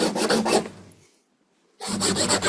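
A tool scrapes back through paint on a painting in quick, rough rasping strokes. A pause of quiet follows, then another burst of scraping, close up and fairly loud.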